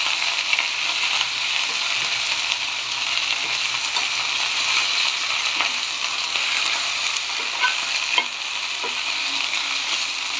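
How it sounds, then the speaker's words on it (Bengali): Sour leaves fry in a little mustard oil, a steady bright sizzle throughout with occasional light stirring scrapes and taps from the spoon. "হালকা একটু সরিষার তেল দিয়ে এই পাতাটা ভেজে নেবেন"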